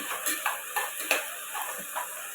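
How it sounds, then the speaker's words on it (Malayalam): Vegetable biryani with potatoes and green chillies being stirred in a pot, a soft scraping swish with a few light spoon knocks against the metal, low and close over a faint steady hiss. "മുഴുവനായി ഒന്ന് ഇളക്കി മിക്സ് ചെയ്യാം."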